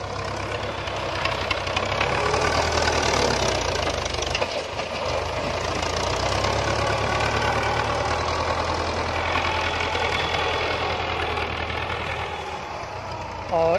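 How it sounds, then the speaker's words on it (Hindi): Two tractors working in a village field, scooping soil and loading it into a trolley; their diesel engines run continuously with a low knocking rumble, steady and fairly loud across the whole stretch. "तो ये देखें ये 2 ट्रैक्टर लगे हुए हैं, इधर से मिट्टी उठाते हैं"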